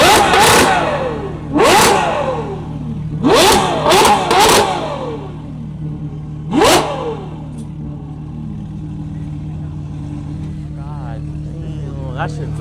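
Loud car engine revs at a night car meet, with several sharp bursts in the first seven seconds and one more alone, over a steady idling drone, with people chatting nearby.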